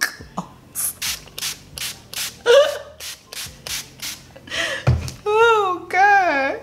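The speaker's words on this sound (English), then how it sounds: "So now I'm going to be spraying." Short bursts of aerosol spray hiss in quick succession, close and fairly loud, followed by a voice speaking and exclaiming.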